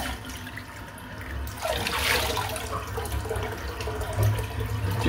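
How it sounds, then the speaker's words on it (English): Tap water runs steadily into a sink to rinse after a wet shave, a broadband hiss that swells louder partway through and continues alone with no talk. "Let's rinse off."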